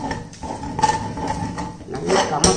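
A metal cooking pot lid rattles and clanks as the pot is opened in a home kitchen, several clinks and knocks of metal on metal at close range.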